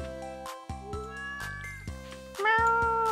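A cat meows repeatedly in Stardew Valley, several tonal mews over a steady game music bed, the final call louder and drawn out.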